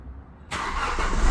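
A car engine settles into a steady idle at about 850 to 900 RPM in a workshop, starting as a low rumble and swelling into a louder, continuous close-up drone that holds for the rest of the moment, with no voices.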